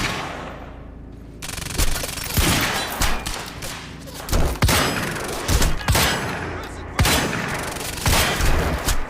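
Repeated heavy gunfire aimed at the Kronos container in Quantum Break, with loud close bursts and booming impacts over a thick, constant wash of action noise.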